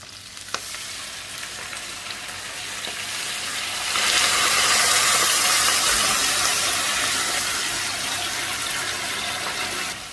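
Braised endives in a frying pan with water added, a steady sizzle and hiss that swells loudly after a few seconds and keeps bubbling, close and with no talk.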